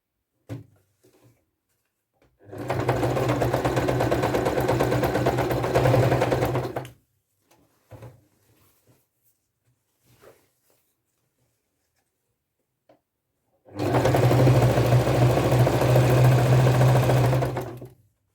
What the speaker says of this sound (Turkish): Lastik iç tarafta kalacak şekilde dikiyorum.